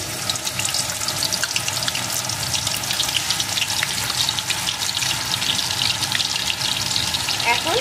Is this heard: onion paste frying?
yes